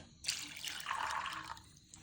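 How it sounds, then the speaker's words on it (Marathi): A short splash of a glass of water poured onto soaked chickpeas in a container, rushing for about a second before tapering off, close and fairly quiet. "त्यामध्ये आपण एक ग्लास पाणी घालूत"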